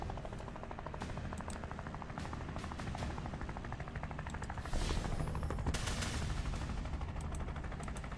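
A helicopter in the Tactical Breach Wizards game drones with a rapid rotor chop, mixed with bursts of gunfire-like crackle, louder after the midpoint, with no talking.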